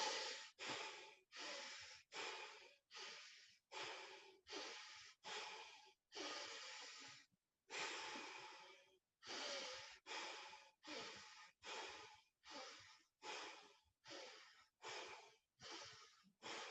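Rebirthing breathwork breathing, loud close breaths through the nose in a steady pattern of four quick sharp inhales and exhales followed by one longer drawn-out breath, repeated several times with no speech.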